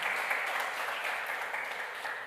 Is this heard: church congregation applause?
yes